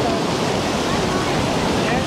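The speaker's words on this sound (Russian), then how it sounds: "Черноморская волна одна за другой набегает на пляж." Black Sea waves roll onto a beach at Vityazevo near Anapa, a loud, steady broadband wash of surf that never drops away, close and continuous throughout.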